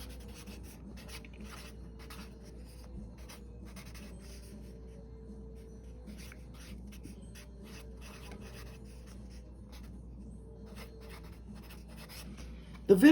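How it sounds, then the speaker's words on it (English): Pen writing by hand in a book, a faint continuous scratchy rubbing that runs steadily throughout, with a soft knock at the very end. "Let me see if I can write this without moving."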